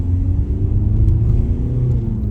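A learner driver's car engine in a driving-test setting rises from idle into a low, steady rev with a slow climbing pitch, loud and close, with no one speaking.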